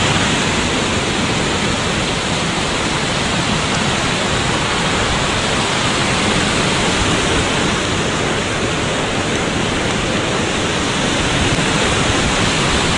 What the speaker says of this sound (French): c'est vraiment le lac au mini-cascade quoi